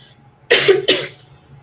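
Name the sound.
coughing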